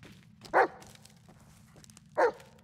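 A dog in the horror game Blair Witch gives two short, sharp barks spaced more than a second apart, fairly close and clear over a low background hum, with no talking.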